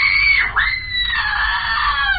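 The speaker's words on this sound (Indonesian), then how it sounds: "Karena teriakan wanita sudah terdengar" A woman screams loudly in a horror film about a psychopathic plastic surgeon, one long shrill wail that breaks briefly and then carries on, piercing and close.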